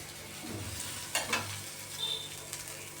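Jowar flour thalipeeth frying in a pan as it is flipped: a soft, faint sizzle with a couple of sharper scraping crackles as the flatbread is turned, no voices.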